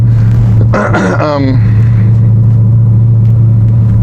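An 800 horsepower car launches and shifts quickly from first to second gear, a loud steady low engine drone with a brief rising rev in between, heard from inside the cabin.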